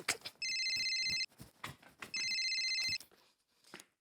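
A telephone rings in a Hindi comedy household scene, two bursts of electronic ringing separated by a pause, heard at moderate level under scattered background sounds.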